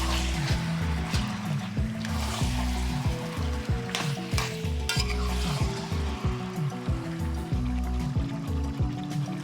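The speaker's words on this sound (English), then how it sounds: "let the pork fry up for 20 minutes to get the color" Steady sizzling and crackling of pork frying in a pot for Jamaican brown stew, loud and continuous, with occasional clatter and stirring noises and no talking.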